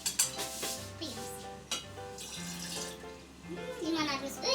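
Liquid is poured into a container while making homemade lemonade, a soft gurgling trickle heard close by, partly under a voice and a tonal background.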